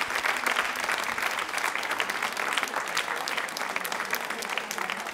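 Steady applause from a crowd at a school quiz-show event, loud and continuous with no break.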